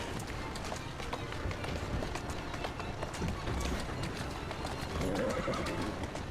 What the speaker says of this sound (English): are the horses just going on their own?